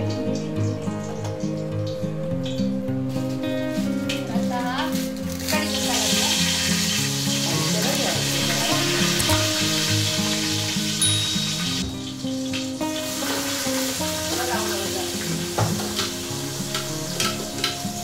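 Oil sizzling loudly and continuously in a pan while heating before whole spices go in, a dense crackling hiss that dips briefly midway, with faint music behind.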